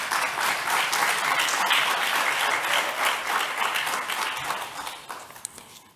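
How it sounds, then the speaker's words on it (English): A conference audience at a university colloquium gives a sustained round of applause for the keynote speaker, the dense clapping holding steady before fading toward the end. "a round of applause again for our keynote"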